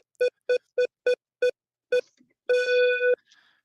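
A random phone scrambler on a trivia radio show sends out six short, evenly spaced electronic ring tones, then one longer, warbling ring. The tones are clean and bright, with silence between them and no talk.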